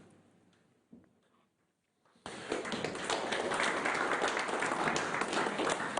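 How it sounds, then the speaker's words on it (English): A panel-discussion audience at an energy supply policy conference bursts into applause after a quiet pause and a few thumps, then keeps clapping steadily and fairly loudly to the end. "Somehow you got the applause"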